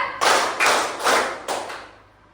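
A class of children claps a rhythm together, four loud, close bursts of group claps in quick succession that fade into the quiet room. No one speaks.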